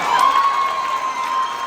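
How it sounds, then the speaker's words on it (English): Live audience at a talk show clapping and cheering, a dense sustained wash of applause and voices, moderately loud throughout. "I'm glad y'all got y'all clapping out."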